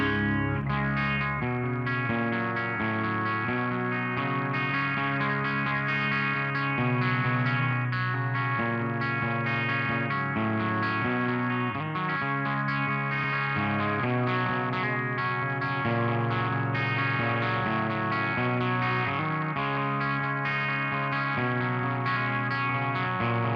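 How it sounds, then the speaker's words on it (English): Electric guitar played through a Blues City Music amp with reverb running in the effects loop in a recording studio, sustained distorted chords ringing with a washy, echoing tail, loud and continuous with no talking. "Now, that was running the reverb."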